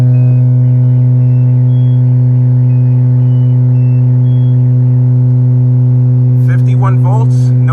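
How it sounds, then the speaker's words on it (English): A 125 Hz test tone played through a New Sound Digital EvoX 2400.4 car amplifier on a test bench. The loud, unbroken hum with harmonics holds throughout, and a brief voice comes in near the end. "We're going to go ahead and play our 125 hertz test tone."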